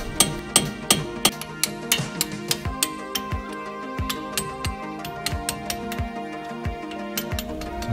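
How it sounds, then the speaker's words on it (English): A hammer taps a metal pin punch against a brake caliper spindle repeatedly in an uneven rhythm, sharp ringing clinks, close and clear, with no speech; Brembo calipers on a Mazda MX-5 ND. "Take the pin punch and with the hammer, tap the spindle."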